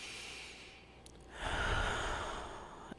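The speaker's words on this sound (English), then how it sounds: "Take a breath" A single deep breath taken during a quiet guided healing ritual, a soft airy inhale swelling midway and slowly fading, close and gentle with no talking.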